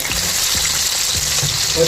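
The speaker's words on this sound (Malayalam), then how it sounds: "ചിക്കൻ്റെ പീസ് കൊടുക്കുക." Chicken pieces fry in hot oil with garlic for a Kerala-style country chicken fry, giving a steady, loud, close sizzle throughout, broken by a few soft low knocks as the pieces are stirred.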